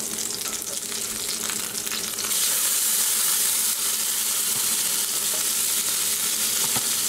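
Hamburger patty frying in a pan for a cowboy burger: a loud, continuous sizzle and crackle close up, growing brighter and steadier partway through, with no voices.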